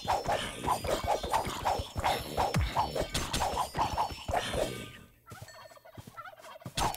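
Turkeys in the survival game RLCraft gobble repeatedly in a fast, loud, rhythmic chatter close by, with a few thuds mixed in before the calls thin out.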